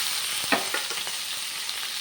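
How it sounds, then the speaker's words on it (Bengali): Paneer cubes go into a pan with fried potatoes, salt and turmeric, giving a short, steady sizzle with a couple of light utensil taps and no voices. "এবার আমি পনিরগুলো দিয়ে দিই"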